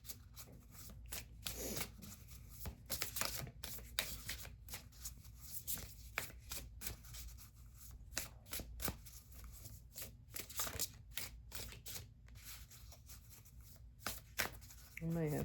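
A deck of tarot cards being shuffled by hand, soft repeated riffling and flicking in irregular bursts, close and quiet, with occasional low talking.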